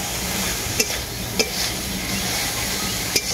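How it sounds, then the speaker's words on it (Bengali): Egg greens sautéed in a pan give a steady low sizzle, with a few sharp clinks of a spatula against the metal, close by and without any voices. "ডিমের শাকটাকেও আমি কিছুক্ষণের মতো কষিয়ে নেব।"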